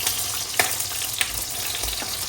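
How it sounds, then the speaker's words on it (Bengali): Salted eggplant slices fry in hot oil left over from kebabs, giving a steady close sizzle and crackle with a few sharp stirring clicks. "এখন হচ্ছে বেগুন ভাজতেছি"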